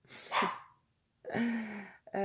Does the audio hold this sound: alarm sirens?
no